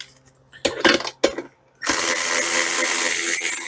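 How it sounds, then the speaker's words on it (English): A few faint knocks and handling sounds, then a power drill whines up loudly and drills steadily without pause, drilling bolt holes on a VW Beetle Baja Bug. "drill holes through here because we want these bolted to these"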